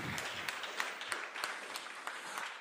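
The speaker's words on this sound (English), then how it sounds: "You have a short applause for the FSFE for that video" A short burst of audience applause at a panel session of the Nextcloud Conference 2019, soft and fairly distant, a dense patter of many hands that holds steady for a couple of seconds.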